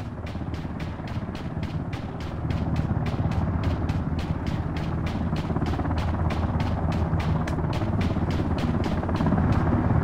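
A video game helicopter's rotor thumps in a steady, fast rhythm over a low engine drone, close and constant throughout.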